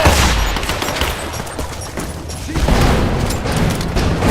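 In Rise of the Tomb Raider, a set charge detonates amid a firefight, with booming blasts and rapid bursts of gunfire filling the scene loudly throughout, a second surge of explosive rumble near the end.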